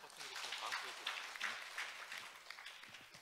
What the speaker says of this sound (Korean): 박수로 마주해 주시기 바랍니다